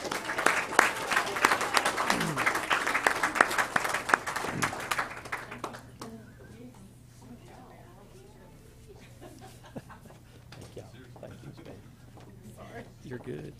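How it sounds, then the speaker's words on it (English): An audience applauds graduating students at a technical college signing day, loud dense clapping for about five seconds that then fades. Scattered voices and a dog's bark follow. "let's give these students a round of applause"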